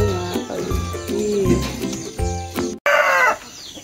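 Chickens cluck and roosters crow at a farm in Claveria, Cagayan de Oro, loud and close, with several overlapping calls and a long crow near the end.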